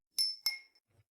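Glasses clinking together in a toast, two bright ringing chimes in quick succession, close and clear, each tone fading out quickly, followed by a faint soft knock.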